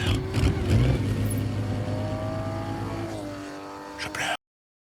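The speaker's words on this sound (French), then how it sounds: "Je monte dedans, je démarre, j'écoute le moteur." A Ferrari 250 GTO, the 1963 Le Mans winner, starts and revs in a film scene, its engine note loud and close, rising in pitch, with background voices mixed in before cutting off.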